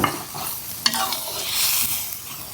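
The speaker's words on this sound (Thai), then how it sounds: "นี่นะคะเราจะใส่กะทิลงไปเลย" Coconut milk goes into a pot of chicken curry with glass noodles and homemade curry paste, giving a steady, close, broad sizzle and bubbling wash marked by a couple of brief clinks.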